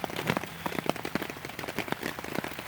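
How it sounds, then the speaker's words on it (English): Rain patters on a waterproof ripstop nylon hammock tarp, a dense, crackling spatter of close drops with scattered louder taps, steady and without voices. "the rain's letting up"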